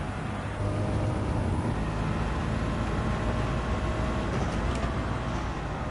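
A steady, droning engine roar from a sports car in the racing video game Gran Turismo 7 at Watkins Glen, held at a constant pitch with no talking over it.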